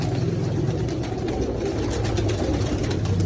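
Sialkoti pigeons in a loft, a dense mass of soft overlapping cooing and fluttering that runs steadily through the whole stretch, fairly close and moderately loud, with a faint low engine-like rumble beneath and no talk.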